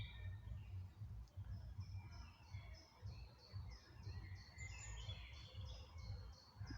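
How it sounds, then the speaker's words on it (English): Birds sing at an overgrown allotment plot, with repeated high chirps and short phrases at a moderate distance over a faint low outdoor rumble. "if you listen to the birds"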